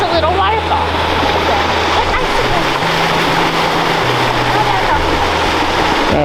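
A small waterfall pours over rocks at a river crossing in the Smoky Mountains, a loud, steady rushing and splashing close by that fills the whole stretch without break.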